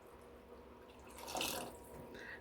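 Water being poured into a home cooking pot, a soft splashing pour that swells briefly midway and then trickles, faint and close with no talking.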